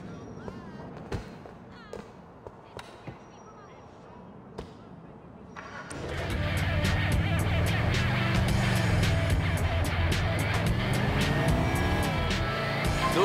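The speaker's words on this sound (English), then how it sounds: "Niko, you're driving us to a hardware store on Dillon Street." A car in Grand Theft Auto IV starts driving: after a quiet stretch of game sounds and thumps, a loud steady engine drone with tire and road noise takes over and holds.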